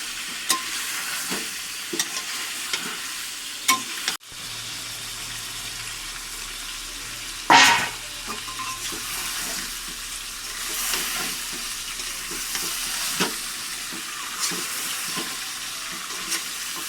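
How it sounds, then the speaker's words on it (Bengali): Chicken with spices, tomato and green chili frying in a pan for Bengali chicken kosha, a steady sizzle broken by periodic scraping stirs and a couple of sharp utensil knocks, no voices. "আমি টমেটো এবং কাঁচা লঙ্কাটা দিয়ে দেব।"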